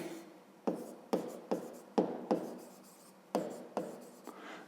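Handwriting strokes on paper or a board during a Ukrainian fifth-grade maths lesson on a square's perimeter: a series of about eight distinct scratchy pen strokes in irregular rhythm, close and fairly quiet, with no talking.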